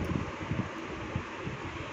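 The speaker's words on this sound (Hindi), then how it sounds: "मैं इसे ग्राइंडर मशीन में पीस ले" An electric grinder machine blending tomatoes into a smooth paste for malai paneer masala gravy gives a steady close whirring roar with slight pulsing throughout, with no talk.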